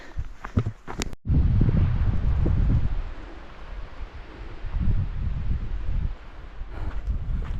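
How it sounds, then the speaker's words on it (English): Strong, gusting wind on a mountain during an evening hike on the Pacific Crest Trail roars across an open microphone, swelling and easing in heavy bursts with a brief dropout near the start. "extremely windy evening hike."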